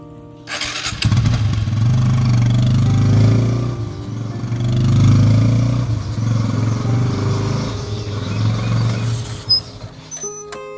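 A motorcycle engine starts up, then runs close and loud with a throbbing, rumbling idle and a few revs. The rumble swells and eases before a sputtering finish.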